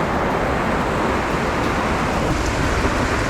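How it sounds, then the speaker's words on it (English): Heavy rain and storm noise at sea aboard a sailboat on an overnight passage, a steady loud dense wash with no distinct thunder crack, filling the whole stretch without voices. "copping lightning and rain all around us"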